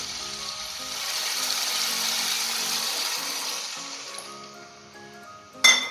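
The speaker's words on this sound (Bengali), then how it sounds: "এবার আমি এর মধ্যে একটু জল দিয়ে দিই।" Water goes into a pan of melted, cooked tomatoes for a katla fish curry with cauliflower, setting off a steady sizzling hiss that slowly eases, ending with a sharp clink.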